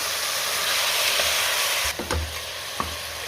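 Mutton frying in oil over a high-to-medium gas flame for a village-style spicy mutton curry, a loud, dense hiss of sizzling that drops slightly as the spatula stirs and thuds against the pan.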